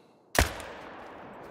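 A single sharp rifle shot fired at a red deer in the hunting game theHunter Call of the Wild, loud and close, with a short decaying echo trailing off into quiet.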